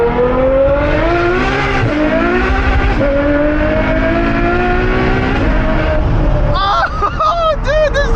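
A straight-piped Ferrari V12 in race mode pulls hard from close inside the cabin, a loud, rising howl climbing through the revs with a shift dip, then sharp crackling pops as the throttle lifts.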